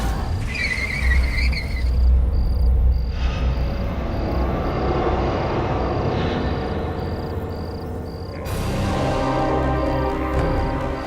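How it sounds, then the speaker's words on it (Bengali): A motorized auto rickshaw engine drones steadily from near to mid-distance, its loud, continuous rumble swelling again toward the end, with a faint high electronic beeping tone in the background. "অটোর আওয়াজ"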